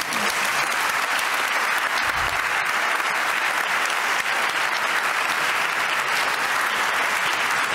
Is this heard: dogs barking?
no